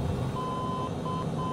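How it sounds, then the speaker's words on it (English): Warning beeps in Microsoft Flight Simulator on an Xbox Series X flight between German airfields: repeated thin, high beeps sound intermittently over a constant aircraft engine drone. "Why did I know this shit would be beeping?"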